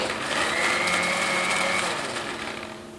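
A blender jar whirs steadily as it spins curry paste loosened with water for prawn curry, a loud continuous motor drone that eases down near the end.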